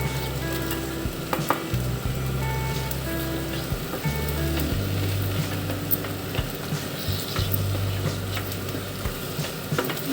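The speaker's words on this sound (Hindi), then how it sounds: "थोड़ा सा और हम भून लेंगे।" Ginger and turmeric halwa roasting in ghee in a pan, a steady soft sizzle with scraping stirring strokes throughout, moderately quiet and close, no voices.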